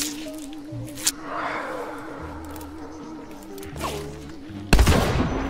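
Gunshots in the game Hunt Showdown, a sharp crack near the start and a loud blast toward the end over low background music, with a few fainter shots between.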